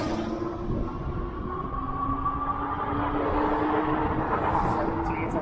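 An EUY S4 moped-style e-bike accelerates on throttle alone, giving a rising electric motor whine over a steady rumble of wind and road noise throughout.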